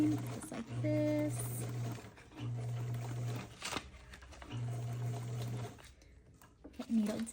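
Sewing machine stitching in short bursts of steady motor hum, each lasting about a second, separated by brief pauses, fairly close and moderately loud, with some faint background noises between runs.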